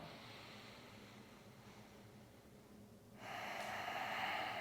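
A long, smooth exhale through the nose during a yoga breathing practice, faint and breathy, swelling into a stronger airy rush near the end.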